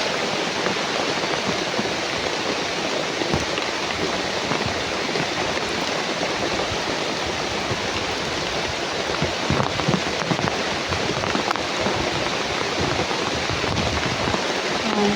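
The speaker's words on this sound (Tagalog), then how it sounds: "sobrang lakas ng ulan dito tol" Very heavy rain pouring down outdoors, a dense, steady roaring hiss of water hitting surfaces close by, unbroken and loud throughout with no voices.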